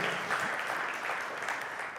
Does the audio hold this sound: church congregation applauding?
yes